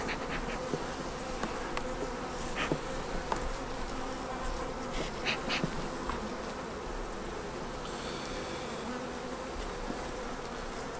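Honeybees swarm around an open hive, their dense buzzing constant and close throughout with no voices, and single bees flit past near the listener.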